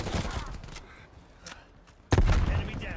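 Gunfire from a gun in the video game Call of Duty Black Ops Cold War comes in short spurts, with a quieter stretch before a heavy, sudden burst near the end.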